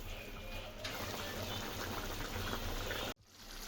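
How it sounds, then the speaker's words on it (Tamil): Garlic and shallot kulambu gravy bubbles in a pot with a dense, steady simmer that cuts off abruptly near the end. "குழம்பு நல்லா கொதித்து மசாலா வடையெல்லாம் போயிடுச்சு"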